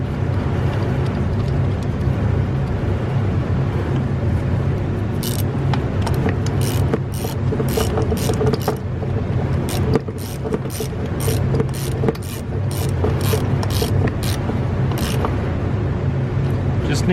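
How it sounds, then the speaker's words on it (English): A ratchet clicks while tightening an ignition coil bolt on a 2013–2019 Nissan Sentra 1.8L, with rapid bursts of close, sharp clicks repeating in short strokes over a steady background engine-bay hum. "put this bolt back in,"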